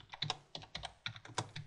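Typing on a computer keyboard, a quick run of crisp key clicks in uneven bursts, close and clear with no voices.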